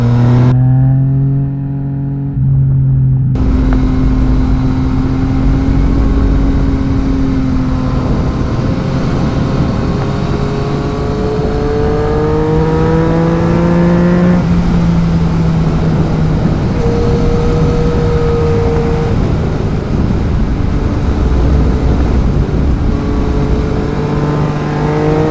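A 2018 Yamaha MT-09 motorcycle out on a ride: the engine climbs through gears in repeated rising revs, loud and close, with wind rush underneath and no talking.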